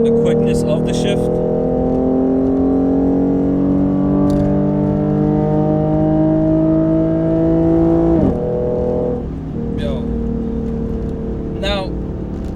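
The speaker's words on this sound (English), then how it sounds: "Alright guys, so I'm gonna downshift." A car fitted with an RR-Racing tune drones steadily near the microphone, engine pitch climbing slowly before dropping sharply as it downshifts, then settling at a lower hum with a brief blip afterward.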